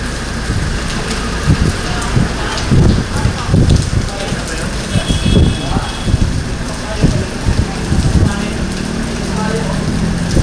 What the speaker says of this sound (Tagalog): Ito na po tinatawag siguro na bagyo ni Nardo.